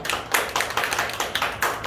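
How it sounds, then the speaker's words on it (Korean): Church congregation clapping together at the close of a Sunday worship service, a steady rhythmic run of hand claps, fairly loud and close, with no talk over it. "박수하겠습니다."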